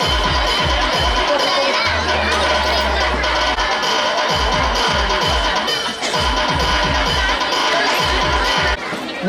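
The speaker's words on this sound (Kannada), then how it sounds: "Please give them the big round of applause." A large school audience at an annual day function cheers and claps, a dense continuous roar of voices and applause with loud low thumps and shouts mixed in throughout.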